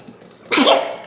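One person sneezes once, a short sharp burst after a moment of quiet room tone.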